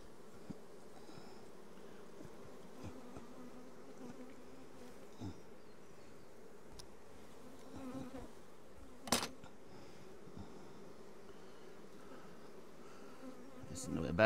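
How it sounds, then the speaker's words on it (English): Honeybees buzz steadily around drone comb being worked at a hive in the Orara Valley, a continuous close hum with occasional knocks and clinks. "Those bees will fly off."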